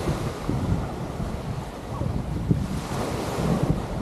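Steady surf and rolling waves at Kaimana Beach in Waikiki, a broad continuous wash with occasional swells, mixed with wind buffeting the microphone and no speech.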